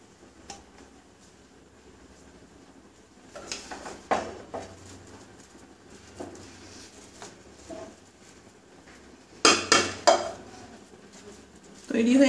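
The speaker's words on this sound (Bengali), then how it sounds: "এবারে আমি একটু ঘি দিয়ে দেব চারিপাশ দিয়ে, আমি ভালো করে নেড়ে দেব।" Chicken tehari being stirred in a pot after ghee goes in, with intermittent metal spoon clanks and scrapes against the pot, louder bursts near the end, and a voice speaking in between.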